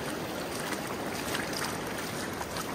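A river stream rushing steadily, a constant broadband wash of flowing water that stays even and close throughout.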